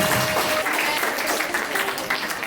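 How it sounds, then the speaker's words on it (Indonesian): Steady applause from a crowd, dense and continuous clapping throughout with no pauses. "beri tepuk tangan yang meriah untuk Ibu Kepala Madrasah kita"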